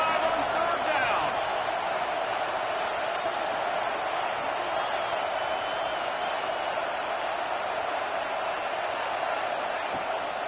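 In the NCAA 26 football game, the Ohio State Buckeye home crowd roars steadily through a third down against LSU, a dense stadium din that holds for about ten seconds beneath commentator talk.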